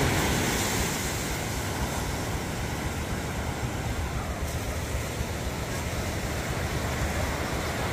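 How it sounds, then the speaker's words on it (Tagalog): Sea waves wash around a fishing boat out loading nets, a steady broad roar of surf and wind that runs unbroken and loud throughout, with no voices. "Ayun, lumalaki pa rin ang alon."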